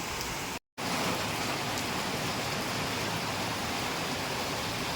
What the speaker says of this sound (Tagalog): So, umuulan na. Umuulan na.